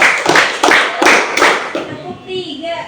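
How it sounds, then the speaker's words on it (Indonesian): A classroom of pupils claps together in unison, a run of about five sharp, fairly loud group claps in quick even rhythm, fading into quieter voices at the end. "Tepuk 5,"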